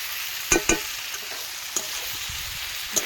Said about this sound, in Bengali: চচ্চড়িটা নাড়িয়ে নেবো